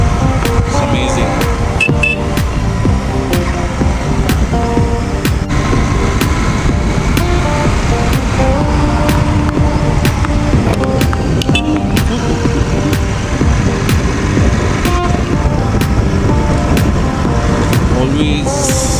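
A Royal Enfield Interceptor 650 motorcycle ridden at speed near 80 on an open road, with a continuous engine drone under heavy wind rush that stays loud and steady throughout.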